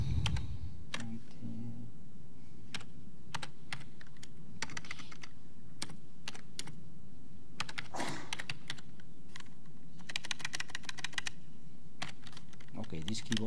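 Someone types on a computer keyboard during a live stream, giving irregular runs of close, crisp key clicks with short pauses over a quiet room background, with a little voice at the start.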